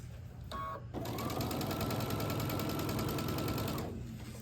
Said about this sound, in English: Then I'm gonna take them to the sewing machine and sew a 1/4 inch.